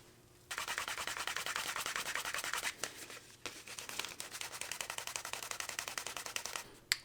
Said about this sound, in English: Now I'm just going to take a moment to burnish the edges of these.